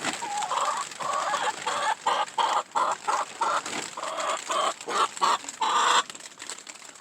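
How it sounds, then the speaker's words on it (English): Several chickens in a winter coop cluck and squawk in short overlapping bursts, fairly close, with brief pauses between calls. "scratch around, grab some food, make a lot of noise, and be the chickens they are"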